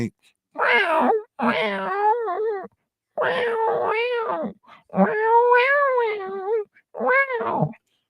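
A man imitates a cat with his voice, making about six drawn-out, wavering meows and wailing calls separated by short silences, close and clear.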